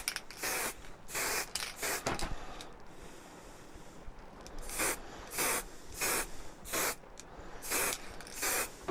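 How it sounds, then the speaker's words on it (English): Spray lacquer hisses in repeated short bursts onto handmade Christmas tree light ornaments hung on a wire, each spray about half a second long with brief pauses between them, close and steady with no talking. "Going to finish these off the same way as I did the crackers, just with a spray lacquer"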